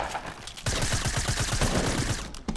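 Fireworks exploding in a Fortnite duo vs squad match, a dense rapid burst of popping blasts like a fusillade that starts abruptly and continues without a break, loud and close.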